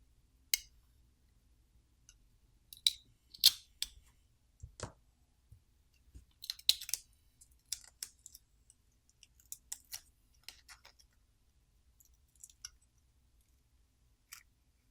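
Graphite film peeled off a Motorola Moto G Stylus phone board, heard as sparse, faint crackling clicks and small ticks scattered irregularly over near silence.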